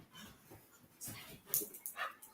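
A dog barks at people walking past the house, giving faint, distant, irregular barks and whimpers in a quiet room.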